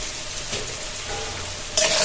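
Potatoes fry in hot oil for a Bengali papad curry, a soft continuous sizzle under faint stirring, with a brighter burst of crackling near the end.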